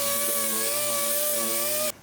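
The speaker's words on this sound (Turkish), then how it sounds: "Evet 120 ile de 80 zımparanın değdiği bütün yüzeyleri zımparalamaya çalıştım." A car bumper being sanded with 120-grit sandpaper, likely by power sander: a steady, loud whirring buzz with a sustained tonal hum that runs evenly and cuts off sharply near the end.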